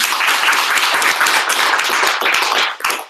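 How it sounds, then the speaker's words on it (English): A room of attendees at an entrepreneur social event in Manchester claps continuously, a dense and loud applause that holds steady, then tapers briefly near the end. "Give yourselves a round of applause."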